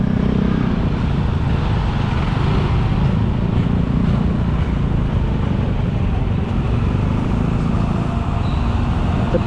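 Heavy traffic crawling along Canggu's main road: a continuous low rumble of car and motorbike engines, close and steady for several seconds, with no talk.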